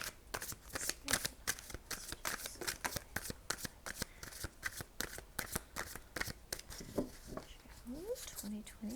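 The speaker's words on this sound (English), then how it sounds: "Pardon me if the shuffling is loud." Tarot cards shuffled close up in a quick, steady rhythm of crisp flicks and slaps, continuing for several seconds, with a quiet voice briefly underneath.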